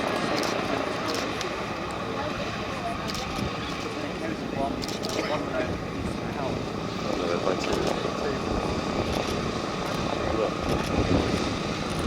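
A vintage propeller aircraft, a biplane fighter, drones steadily overhead at a Battle of Britain air show at Duxford, its engine roar continuous and fairly loud beneath a commentator's voice.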